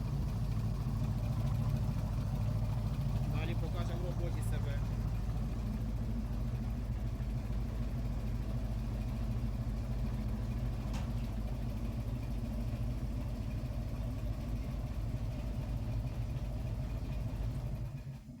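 Freshly started, still-cold ZIL 130 truck engine idling close by, a constant low rumbling drone with a couple of brief metallic clicks early on, running evenly before fading at the very end.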